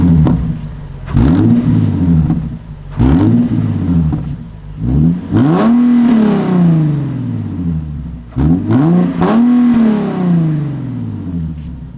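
A Nissan 370Z sports car engine revs repeatedly, several sharp loud bursts that climb and fall back, close and powerful with no one speaking.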